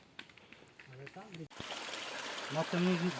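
A small forest stream on a Carpathian hiking trail, a steady rushing gurgle that swells from faint to close and full, with people talking over it.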